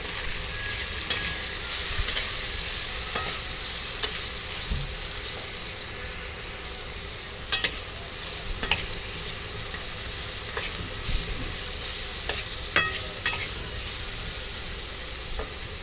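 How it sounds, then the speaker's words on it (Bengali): Food frying in a pan with salt and turmeric, a quiet steady sizzle broken by scattered light clicks and scrapes of stirring, no voices. "হলুদ দিয়ে দিলাম তো এবার এটাকে একটু সুন্দর করে ভেজে নেব"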